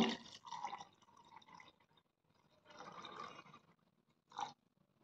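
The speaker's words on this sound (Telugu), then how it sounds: "ఇప్పుడు దీంట్లో మేగడ ములిగేంత వాటర్ పోసుకోవాలి మనం" Water pours into a container holding butter in a few quiet bursts, the last one short, with near-silence between them.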